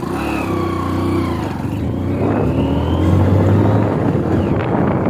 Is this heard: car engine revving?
yes